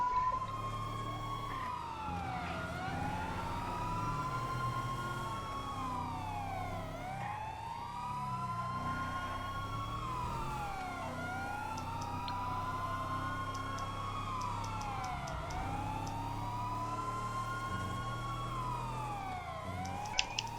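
Police sirens wail in a video game as cops chase the player, a loud siren rising and falling in steady repeating sweeps with no talking.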